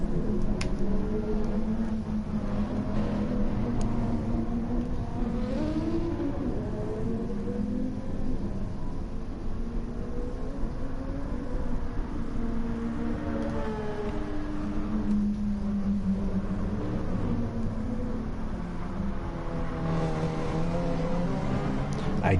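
Race cars idle and rev in a racing video game on a slow formation lap while the drivers warm their tires, giving a steady droning engine tone with rising and falling pitch sweeps as the pack moves, continuous and fairly close.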